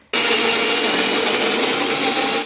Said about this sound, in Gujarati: તો ચલો આને બધું મિક્સ કરીને ગ્રાઇન્ડ કરી દઉં